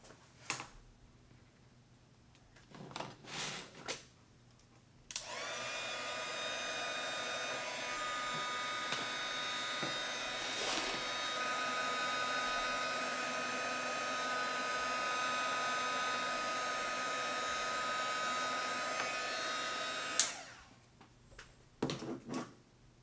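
Embossing heat tool blowing hot air over inked paper, a steady loud whirring hiss that runs for about fifteen seconds, framed by small handling clicks before and after.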